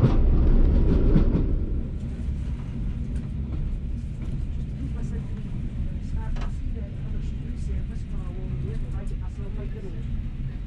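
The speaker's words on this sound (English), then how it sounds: "the afternoon Jacobite train pulls in to allow us to pass" Jacobite steam train pulling in at Arisaig station as another train waits, a low rumbling rail roar loudest at first then steady, with faint clanks and squeals over the hum.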